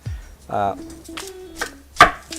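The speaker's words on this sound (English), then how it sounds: "this is half of a sweet white onion that we're going to be chopping up here" A knife chops half a sweet white onion on a cutting board in a home kitchen, giving a few sharp, separate cuts close by, spaced unevenly over a quiet background with a faint low hum.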